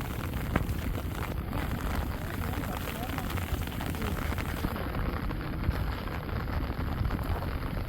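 Steady rain falls around rice paddies in Laos during planting, a dense, constant hiss that holds even for the whole stretch, with a faint voice appearing at moments.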